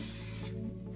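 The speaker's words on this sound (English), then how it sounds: "little spray with the grease" A short hiss of grease spray onto a metal baking tray, close and steady for about half a second before cutting off, leaving a low background hum.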